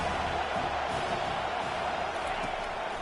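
Stadium crowd in a football video game swelling behind the defense on 3rd down, a loud, continuous roar of cheering voices sustained throughout with no breaks.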